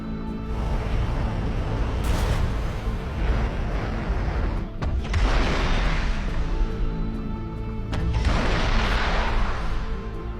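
Anti-aircraft missiles striking targets in the War Thunder game, heard as a series of loud, rumbling booms and blasts, with bursts around the start, middle and end over a continuous battle din.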